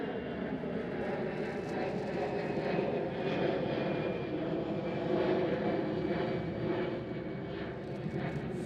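A Croatia Airlines aircraft in Star Alliance livery at Amsterdam Schiphol produces a continuous mid-level engine roar, broad and even with slight swells, heard alone without speech.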